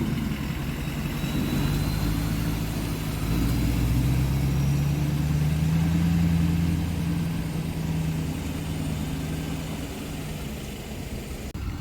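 A car towing a ratcheted-down load pulls away, its engine a steady low hum with a rising and falling drone that stays fairly close and constant throughout, with no talking.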